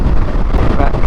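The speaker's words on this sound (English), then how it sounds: "this wind is insane" Strong wind buffets a microphone by a roadside in Ireland, making a constant loud, low rumbling roar with no break across the short moment.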